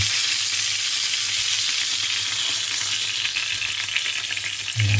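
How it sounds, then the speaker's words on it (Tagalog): Sea bream fries in a pan of hot oil, a dense, steady sizzle and crackle close by that holds at one level throughout, with a low hum underneath and no talking. "So yan na guys, ang ating piniritong isda."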